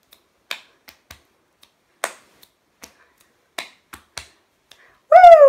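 Sharp, isolated finger snaps tapped out one at a time in an uneven rhythm, close and crisp against silence, followed at the end by a brief high vocal whoop.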